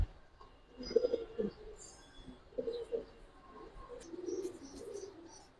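Pigeons at a Bengali pigeon seller's loft, including a large male chila chuithal, coo in repeated low throaty bursts close by, with a few faint chirps and rustles between calls.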